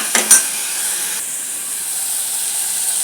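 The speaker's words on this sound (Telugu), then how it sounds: "ఇప్పుడు దాన్ని బాగా ఫ్రై చేస్తున్నాను" Curry with tomatoes and coriander frying in a pan for a drumstick chicken curry, heard as a steady bright sizzling hiss that opens with a couple of quick stirring clinks, close and continuous, with no talking.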